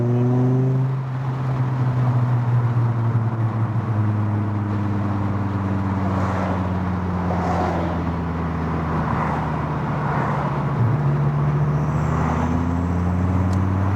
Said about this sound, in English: I love the decel pop in these.